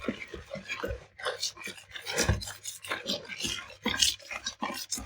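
Icing sugar is stirred by hand in a bowl for a no-bake cheesecake, making continuous close rasping, scraping strokes in an uneven rhythm, loud and unaccompanied by talk.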